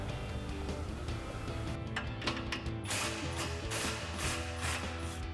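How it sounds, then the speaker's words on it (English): A ratchet fitted with a 15 mm socket works loose the axle-back exhaust bolts on a Corvette, giving a close, rapid run of clicking pawl ticks that starts in short bursts and then turns steady, with no voices. "we're gonna use our 15 millimeter socket to loosen these up"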